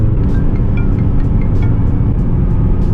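A loud, tuned 300 whp MazdaSpeed 3 at full throttle on a bridge, a constant heavy roar of engine and road noise from inside the cabin with no letup; no speech.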